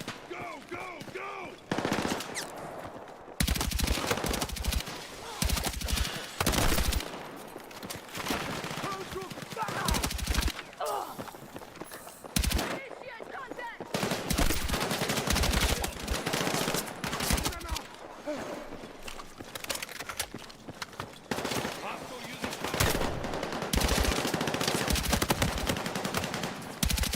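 Rapid automatic gunfire from the Battlefield video game rattles in long, dense bursts with brief gaps, loud and close, and shouted voices come through between the volleys.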